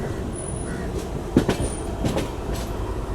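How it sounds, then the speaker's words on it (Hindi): A Chennai–Bangalore double decker express train running alongside the Shatabdi Express, heard from on board. A steady rumbling rail roar with faint wheel clicks and a few brief squeals, close and continuous. "फाइनली जा भिड़ी हमारी ट्रेन शताब्दी एक्सप्रेस के साथ"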